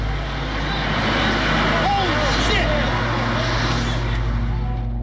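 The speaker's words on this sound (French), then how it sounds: "le premier avion s'écrase dans la tour nord du World Trade Center" A low-flying airliner over New York on 11 September 2001, just before it hit the North Tower of the World Trade Center, produces a loud, continuous jet-engine roar that swells steadily, with voices mixed underneath.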